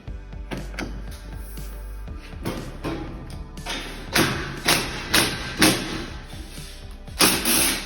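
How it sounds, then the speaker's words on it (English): A sheet-metal duct plenum is pushed up into place. It gives repeated hollow thuds and mechanical clunks that land in a rough rhythm, with a few sharp knocks near the end. "So we're going to push this plenum up"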